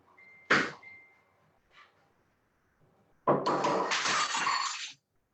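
A drinking glass shatters in a single sharp crash, followed by a brief faint clink, then a longer loud burst of clattering, scattering shards about two seconds later.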